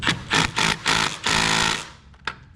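On a Vermeer mini skid loader, a tensioner bolt retainer is taken off with a 9/16 wrench or ratchet, producing four or five loud, close bursts of rapid clicking, then a single sharp click after a short pause.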